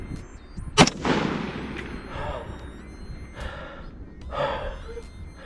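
Rifle fired at targets during a woodland shooting competition: one sharp, loud report followed by a long rumbling echo, then heavy breathing and gasping nearby with faint movement.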